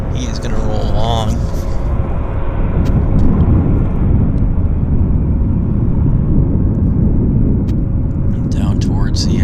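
A jet airliner lands and rolls long down a wet runway at Vancouver airport, producing a low, steady rumble with tire spray hiss beneath, while people talk over it.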